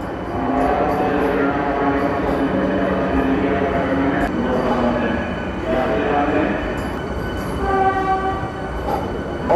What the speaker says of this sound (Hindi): और ये ट्रेन हमारी आ चुकी है वंदे भारत।